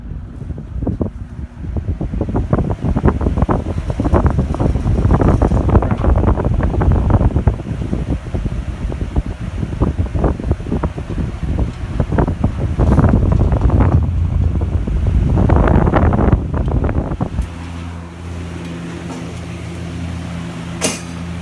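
A vintage Lau box fan running at about 1550 RPM on high speed, a steady broad airy whoosh that stays constant for most of the stretch before settling to a lower hum with a faint tonal drone.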